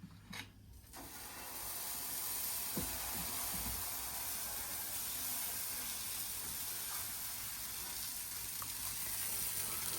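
Oil dosa frying on a hot pan in a home kitchen, a steady broad hiss and sizzle that holds at an even level throughout, close by, with a few small knocks near the start and no talking.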